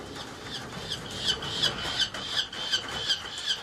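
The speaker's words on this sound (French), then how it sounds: "Ces deux petits faucons laniers et cette chouette effraie sont nés au début du mois de mai. Et s'ils piaillent autant en notre présence, c'est parce qu'ils sont affamés." Hungry young lanner falcon chicks and a barn owl chick squeal and squawk in short, shrill, repeated bursts close by, with a soft rustling background.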